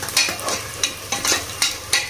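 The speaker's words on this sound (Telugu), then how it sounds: "ఉల్లిపాయ ముక్కలు కలర్ మారేంత వరకు ఫ్రై చేసుకోవాలి" Onion pieces fry in a pan for mutton curry, a loud, close sizzle broken by regular scraping strokes of a spatula as they are stirred, with no voices.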